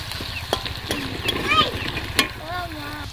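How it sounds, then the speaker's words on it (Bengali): Chopped onion frying in oil with dried chilli, pepper, mace and a bay leaf for a village-style duck curry, a soft sizzle with stirring scrapes and clinks, with brief talk over it. "কুচি করে রাখা পেঁয়াজ দিয়ে দিয়েছি। পেঁয়াজটা খুব সুন্দরভাবে ভেজে নেব লাল করে।"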